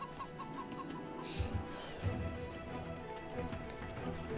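Chickens cluck in an Age of Empires match, soft rhythmic game-fowl sounds over a steady low background of game ambience, with a few faint bird-like calls early on.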